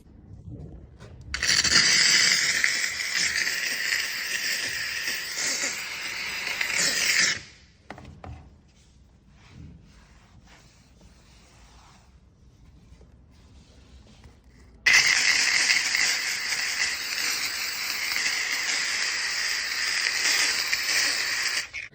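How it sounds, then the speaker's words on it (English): Loud steady hissing of a steam cleaner removing paint splotches from a floor runs for several seconds, drops to a quieter rustling lull, then resumes just as strongly. "It's all about the steam machine."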